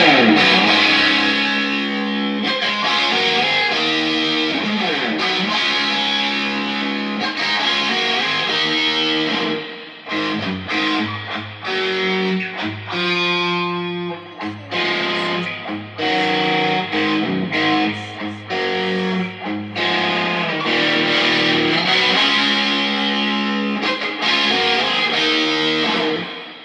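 Electric guitar with heavy distortion and reverb turned up high, playing riffs, loud and continuous with chugging chords and choppy stop-start phrases, no voices over it.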